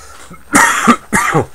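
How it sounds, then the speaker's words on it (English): Two harsh, close coughs in quick succession, each a short rough burst. "the cough is killing me"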